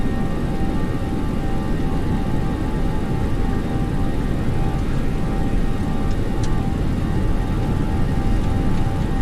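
Simulated airliner jet engines on a LevelUP 737-600NG spool up to takeoff power in X-Plane 11, a steady loud broadband roar with a faint high whine holding throughout, no talk over it.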